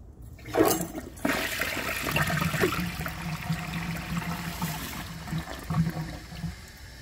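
A 2014 Vortens Murano toilet with a short flush rushes and gurgles steadily for about seven seconds, loud and close, with a sharp onset and no voices.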